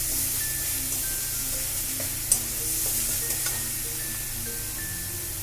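A spoon stirs a sizzling spice mixture with chopped coriander in a frying pan while cooking a spicy fish dish, a steady hiss of frying with occasional soft scrapes and clinks.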